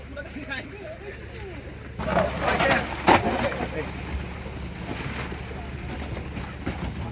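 Three fishing boats at sea: engines and wind noise over open water, with a louder swell of motor and splashing partway through; no talking.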